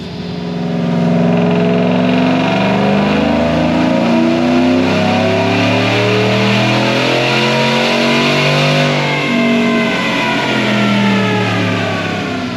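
A supercharged 5.3-litre Chevrolet Silverado pickup engine revs up and down repeatedly, rising and falling pitch sweeps, loud and close, with no talking.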